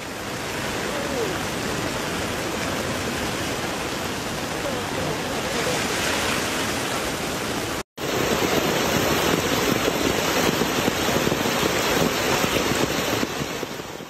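Heavy rainfall pouring down during hazardous driving, a loud, dense and steady roar of rain and splashing water that continues without pause through a brief cut.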